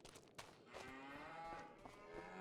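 Cows in the Farming Simulator 25 video game lowing in a couple of drawn-out, overlapping moos, fairly faint and close together, with no talk over them.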